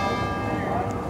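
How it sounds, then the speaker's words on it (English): Church bells ringing somewhere behind in a Portuguese town, a faint metallic tone that holds steady under background noise and a short burst of talk. "Got the church bells going on behind me."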